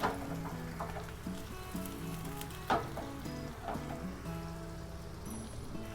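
Chopped onions sizzling and frying steadily in a pan as a base for malai kofta, a continuous close crackle with a few sharper pops and faint clinks over it.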